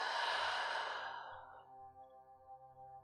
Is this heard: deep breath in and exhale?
yes